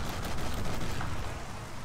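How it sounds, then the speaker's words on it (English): Rapid shotgun fire in the video game Mafia: The City of Lost Heaven, a dense, continuous burst of loud blasts running together without pause, no talking over it. "We can rapid fire even with a shotgun,"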